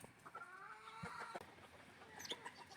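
Pullets in an outdoor range area cluck softly and fairly quietly, with a string of short, irregular calls and a few sharper squawks near the end.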